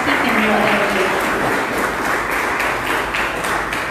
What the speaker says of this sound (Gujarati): આપણે ફરી એકવાર તાળીના ગડગડાટથી તેમને